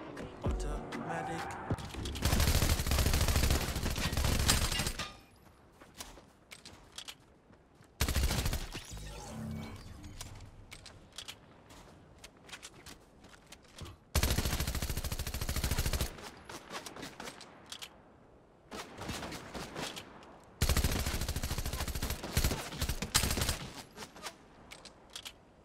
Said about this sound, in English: that's the brand new machine gun pistol inside of Fortnite Chapter 3 Season 1